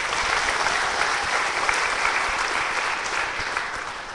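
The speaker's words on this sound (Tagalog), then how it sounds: "bigyan niyo nga po siya ng malakas na palakpak" A church congregation claps loudly and steadily in a broad, even wash of applause, with no voices standing out above it.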